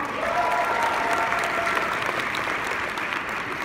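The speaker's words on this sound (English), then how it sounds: "a big round of applause" Convention audience applauding steadily, a dense even wash of clapping from a large crowd that holds at a constant level throughout.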